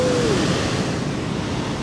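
Ocean surf breaking at a beach in Puerto Escondido, Oaxaca, Mexico, with waves around 2.4 to 2.6 meters, makes a steady, loud, broadband wash that roars continuously with no voices.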